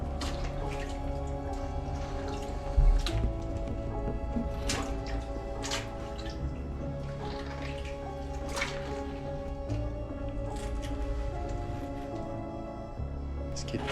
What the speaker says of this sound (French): il y a de l'eau qui me goutte dessus